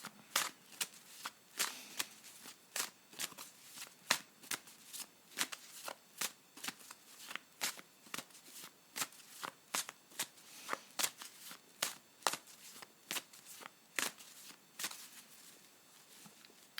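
Tarot cards shuffled by hand, a long run of crisp riffling bursts repeating in a quick uneven rhythm, close and fairly quiet with no talking.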